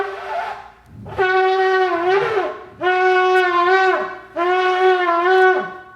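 Shofar sounding the shevarim call at a preschool Rosh Hashanah service: three separate medium-length horn blasts, each a bright buzzing tone with a bent, slurred ending, loud and close.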